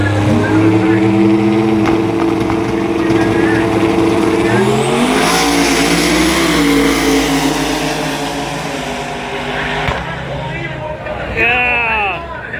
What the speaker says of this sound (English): The Buick trying to get that boost up before it goes down the street.